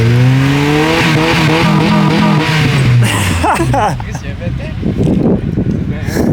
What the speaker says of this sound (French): Ouais, il y a un VTEC. C'est pas pire, ça fait pas un son trop agressant